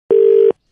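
A single steady telephone tone on a radio phone-in line after a caller hangs up, loud and clean, lasting under half a second and then cutting to silence.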